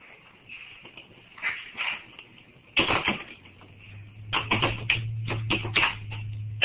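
Keys tapped on a computer keyboard in a classroom setting, bursts of quick clicks separated by short pauses, fairly close, with a low hum joining partway through.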